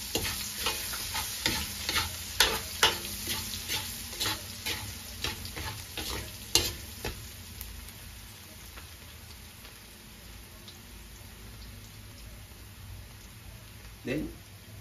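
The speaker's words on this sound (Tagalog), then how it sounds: "Drop na natin yung garlic," Garlic sautéing in hot oil for Filipino pinakbet, with a continuous sizzle and a quick run of close spatula scrapes and taps that thin out midway; a voice speaks briefly.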